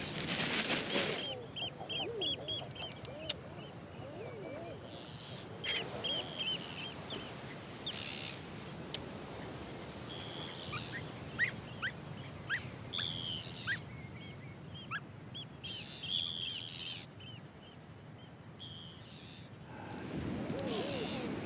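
Seabirds call in short bursts near their nests at an Icelandic colony, faint and scattered against steady wind and rain-soaked outdoor ambience, with a few louder gusts of noise at the start and end.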